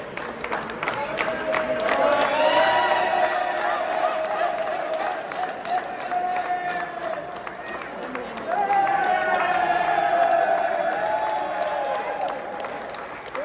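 Crowd at an outdoor volleyball tournament award presentation breaks into sustained cheering and applause, loud and continuous, with a voice speaking over the noise.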